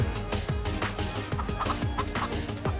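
Chickens clucking in Minecraft Story Mode, a busy, close flock of short repeated clucks and squawks in irregular rhythm over a constant background hum, no voices.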